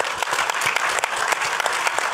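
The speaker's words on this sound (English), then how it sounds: "So round of applause to Equip." An audience at an equipment expo applauds with dense, steady clapping throughout, close and fairly loud.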